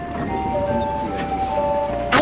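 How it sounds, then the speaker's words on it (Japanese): A worn-out train door chime at Soga station in Japan plays steady electronic tones over station background noise, ending with a brief burst of louder noise. "相変わらずドアチャイム劣化してるな。"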